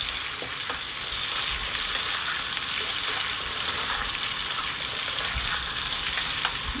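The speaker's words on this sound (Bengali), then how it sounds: "সব আলুগুলোকে আমি দিয়ে দিচ্ছি এবার সুন্দর করে ভেজে নেব দেখুন একটু নেড়ে চেড়ে দিলাম" Long-cut potato pieces frying in a pan of oil and being stirred, a loud, even hiss of sizzling with occasional soft stirring clicks throughout.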